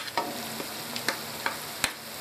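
Tomatoes sizzle in a pan for moong dal, with a steady low frying hiss broken by several sharp scrapes and clicks from stirring. The sound is close and there is no talking.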